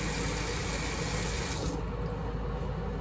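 Running water wetting hair before dyeing, a loud steady rush of tap water that softens partway through as the flow shifts, with no voices.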